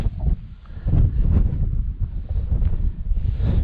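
Strong wind buffets the microphone on an exposed mountainside in Assynt, a continuous loud roaring rush with gusts swelling and easing, and no talking.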